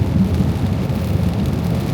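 Rain starts coming down on a moving truck, a dense, muffled wash of drops over a low, constant road and engine rumble from inside the cab.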